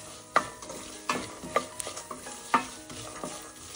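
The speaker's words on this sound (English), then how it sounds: "Mix everything well." A spoon scrapes and clacks through a spiced makhana chivda mix in a hot pan, several sharp distinct strikes spaced irregularly over a faint sizzle, close and clear with no talk.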